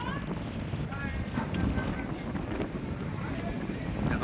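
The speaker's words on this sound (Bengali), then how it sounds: "দেখো মেঘের মৌসুম, আর প্রচণ্ড হাওয়া বাতাস দিচ্ছে," Strong wind gusts across a rooftop under cloudy skies, buffeting the microphone with a continuous rough roar that swells and eases.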